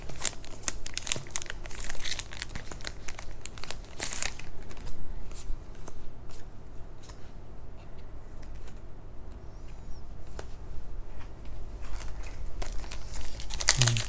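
Trading card booster packs are torn open and their foil wrappers crinkled and crushed, giving close, busy rustling and sharp tearing bursts that come in uneven clusters at a quiet level.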